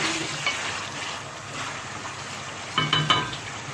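Chicken frying in a pan, a steady close sizzle with a few scraping stirs and clinks of a utensil against the pan near the end.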